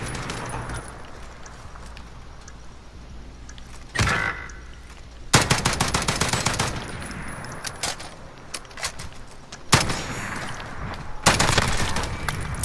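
Bursts of turret gunfire from an online shooter game rattle in several loud, rapid volleys with short gaps between them, mixed with clinking game effects.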